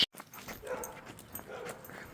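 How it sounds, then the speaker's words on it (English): Dog barking during an outdoor winter walk, a few short yips and barks at moderate distance, faint against wind-like background noise after a sharp handling bump at the start. "There's another doggy."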